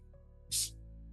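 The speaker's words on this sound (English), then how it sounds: "I'm going to spray your throat chakra with protection spray" A single short, bright hiss of a spray bottle, one quick burst close by against a quiet background.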